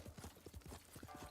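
Horse hooves clip-clopping in the video game Ghost of Tsushima, a quick, even galloping rhythm of soft thuds, close and fairly quiet, with no talking.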